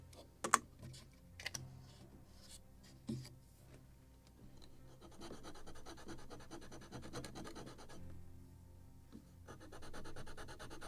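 Sandpaper rubbing on the wooden deck of a model 1776 gunboat Philadelphia, a few sharp taps followed by continuous close, quiet scratchy rasping strokes.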